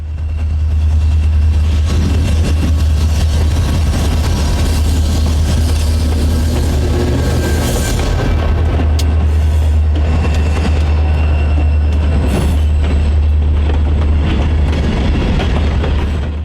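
A train rolls past on a Utah railroad near Corona Arch, a loud, steady engine drone and rumble of rail cars filling the whole stretch with rhythmic clatter.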